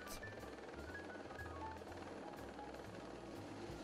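Distant helicopter rotor thrum, a low continuous beating drone held at a steady, faint level throughout with no talking, as a helicopter ferries equipment to a rockfall-netting site near Ribeauvillé.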